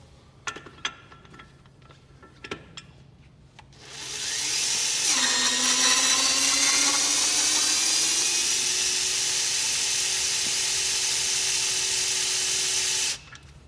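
A TORCUP torque wrench tightens a wheel bolt on an Axial Flow machine, starting after a few clicks and clanks with a loud steady motor whir that climbs in pitch as it reaches torque, running about nine seconds before stopping abruptly.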